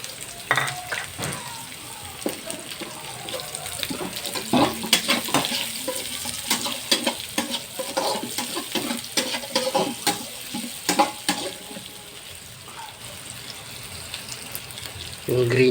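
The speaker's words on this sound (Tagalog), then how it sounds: "Mix natin yung carrots." Carrots, chili, onion and garlic are stirred in a pan over a busy sizzle, with repeated scraping and clattering of a utensil against the pan and some background noise.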